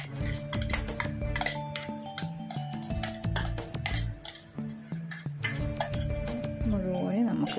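Onion-tomato paste goes into a pot of Punjabi-style mutton curry and is stirred, with repeated metallic clinks and scrapes of a utensil against the pot under a person talking.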